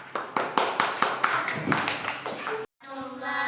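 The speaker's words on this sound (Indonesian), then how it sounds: "Kasih tepuk tangannya" A small classroom audience at a university teaching session claps in a loose, uneven run of separate hand claps, with voices talking over it, before the sound cuts abruptly to a brief steady tone.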